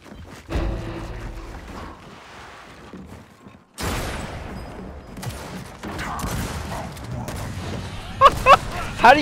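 Bursts of video game gunfire in a wager match, several loud shot clusters and rapid cracks spread across the stretch, with people talking and shouting over the action.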